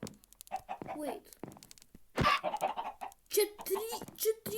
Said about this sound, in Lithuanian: Čia trys mažos vištelės iš vieno kiaušinio.